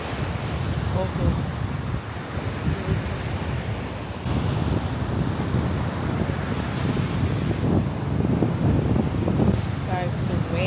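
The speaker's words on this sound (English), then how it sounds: "the waves, can you hear it?" Ocean waves on a beach in Punta Cana roar in a steady, loud wash mixed with heavy wind buffeting the microphone, while a person speaks briefly over the noise.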